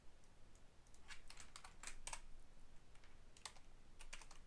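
Rapid typing on a Mac computer keyboard, a steady run of soft close key clicks in small bursts throughout with no talking.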